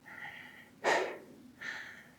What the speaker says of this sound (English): still breathing deeply